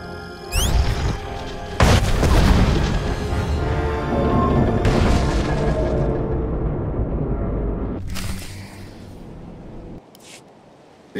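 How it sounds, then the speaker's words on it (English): An explosion in Star Wars: The Old Republic sets off a loud, sustained crashing rumble with several sharp impacts and debris-like roar that runs for many seconds before cutting out abruptly. "The explosion shook the ground."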